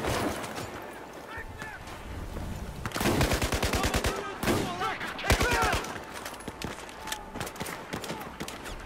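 Rapid bursts of automatic gunfire in Battlefield 4 crackle loudly in two main volleys, with scattered shots and game ambience around them; a player talks over the action.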